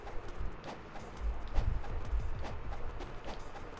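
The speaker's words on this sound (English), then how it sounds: "Horses." Horses in the video game Ninja Gaiden Sigma gallop past with quick, rhythmic hoofbeats at moderate volume and no voices over them.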